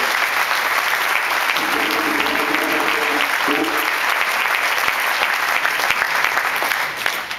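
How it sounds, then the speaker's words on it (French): Audience applause after two guests are introduced at an evening event, a steady wash of many hands clapping at full strength throughout, with a faint tone beneath and a slight fade at the end. "Je vous demanderai de les applaudir."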